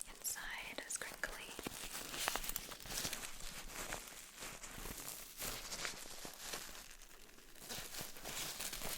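Crinkly plastic lining inside a zippered pouch is handled near and quietly in a whisper-style setting, giving a continuous soft crackling and rustling with scattered sharper crinkles and faint whispering alongside.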